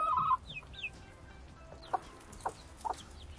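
Chickens cluck close by, a few short sharp calls at first and then a handful of spaced-out clucks against quiet background noise.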